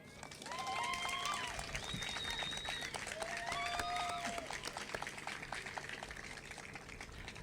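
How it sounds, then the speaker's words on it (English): Applause at a city of Oxnard park activation event: a crowd claps steadily for several seconds, with a few whistles and voices mixed in, then the clapping slowly thins out. "And we give our thanks and immense applause to Mr. Eric Hummel."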